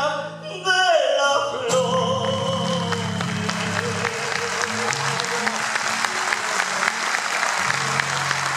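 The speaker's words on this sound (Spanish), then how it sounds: "Arriba los aplausos para..." Applause breaks out from the audience at a payada, a live improvised folk-song duel on Argentina's National Payador Day, rising suddenly and holding as dense, steady clapping with guitar chords ringing underneath.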